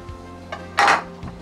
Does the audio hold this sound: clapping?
no